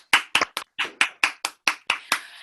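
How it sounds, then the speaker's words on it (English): Sparse, distinct hand claps from a small group welcoming a panel speaker, about a dozen sharp separate claps over a couple of seconds, close and moderately loud with no talking. "I would just like to give first a round of applause to Dr. Kira for joining us."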